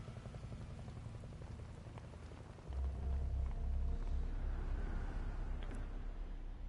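Soft, steady rain patters continuously at low volume in the video game Metal Gear 3, growing slightly fuller partway through, with no voices.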